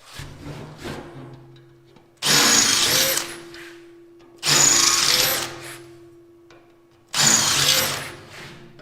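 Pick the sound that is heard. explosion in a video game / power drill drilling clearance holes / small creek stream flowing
power drill drilling clearance holes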